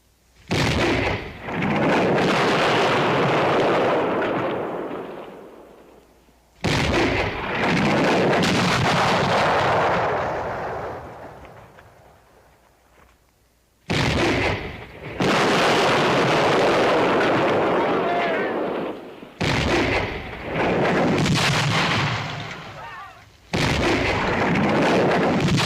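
Heavy artillery cannon fire booms in four loud, long blasts, each rolling and rumbling for several seconds before a brief lull and the next volley, heard close with no voices over it.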